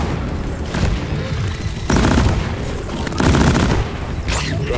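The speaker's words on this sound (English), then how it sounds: "Sticky grenade!" A sticky grenade goes off amid gunfire in Deep Rock Galactic: dense, loud blasts and rattling fire in three swelling waves, with a boom layered into the clatter and no pause between bursts.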